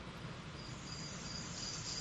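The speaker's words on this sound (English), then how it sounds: "Oh yeah, you got some crickets going on there." Crickets chirp in a dense, continuous chorus in a rainforest, with a soft hiss of ambient background, steady and moderately faint throughout.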